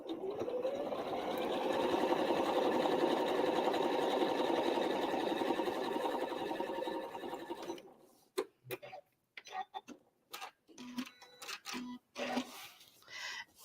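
A sewing machine straight-line quilts Valentine's scrap place mats. Its motor hums steadily and closely for about eight seconds, then falls into short intermittent bursts of stitching and ticking.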